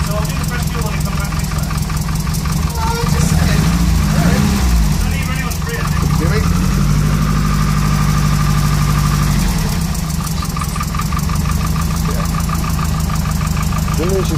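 A Nissan S13 engine idles steadily after four years in storage, running on old fuel, with a close, continuous mechanical drone and slight knocking throughout, while voices talk over it.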